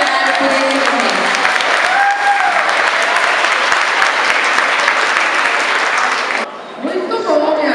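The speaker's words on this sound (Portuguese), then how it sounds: "uma grande salva de palmas a todos que colaboraram por esse momento" Audience applause at a graduation ceremony, loud and steady from a large crowd, continuing for several seconds before dropping sharply near the end as scattered claps trail off.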